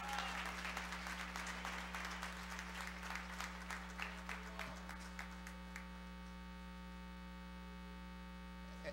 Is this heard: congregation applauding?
yes